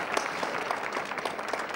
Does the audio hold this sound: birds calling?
no